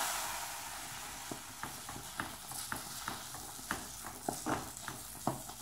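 Melted butter hitting a pot of trahana, a sour Albanian fermented grain-and-yogurt dish, giving a low steady sizzle with small scattered pops and clicks of stirring throughout.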